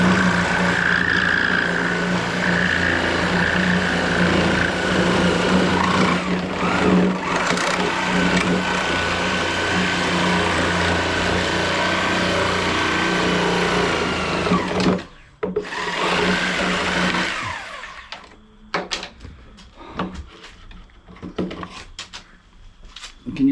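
A sawzall reciprocating saw cutting and shaving an LS intake manifold, a loud, continuous buzzing rasp up close that stops abruptly, followed by scattered clanks and handling noises.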